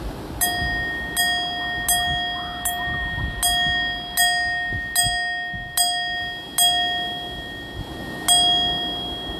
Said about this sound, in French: écoute un peu la cloche ici